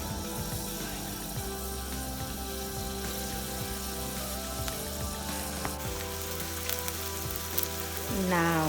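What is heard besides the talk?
onion sizzling in a frying pan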